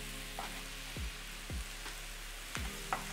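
Vegetables, including sun-dried tomatoes, sizzling and frying in a pan with a soft continuous hiss, broken by several brief scraping and stirring knocks as they are moved around.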